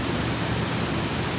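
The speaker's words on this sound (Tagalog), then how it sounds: "Lumalakas na yung ano, hangin at saka yung alon." Strong tropical storm wind and big waves along the Gulf of Mexico coast make a loud, steady roaring wash of broadband noise that is close and unbroken, with no talk.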